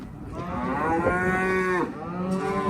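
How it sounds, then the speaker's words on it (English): Cattle moo loudly and close by at a farm during calving season, one long drawn-out bellow sliding in pitch followed by a second overlapping call, with no talk. "Adam's getting those cows"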